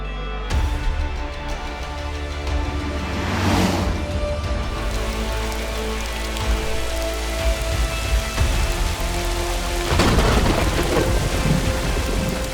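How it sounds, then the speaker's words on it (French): Heavy rain pours steadily while loud thunder cracks and rumbles twice, a violent storm close overhead during a classic car rally in France. "Dans cet orage extrêmement violent"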